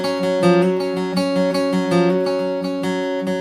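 Guitar picking the lead lick from the intro of a song, a flowing run of plucked notes over ringing strings, close and without talk.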